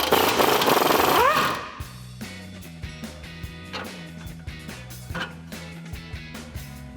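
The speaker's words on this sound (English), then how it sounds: "We're gonna use an 18mm wrench and a 15mm socket to remove it from the axle tube." A shock absorber is removed from the axle tube of a 2015-2020 Ford F-150 with an 18mm wrench and a 15mm socket. A loud whirring burst gives way to a run of close, regular mechanical clicks and ratcheting taps.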